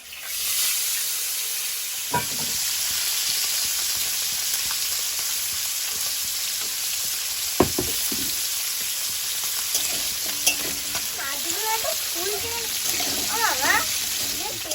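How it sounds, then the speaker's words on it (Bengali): Fish frying in hot oil in a village kitchen hisses loudly and steadily up close, with a few clinks of a utensil and a voice singing faintly in the background toward the end. "তেলটা গরম হয়েছে আমি মাছগুলো ভেজে নেবো"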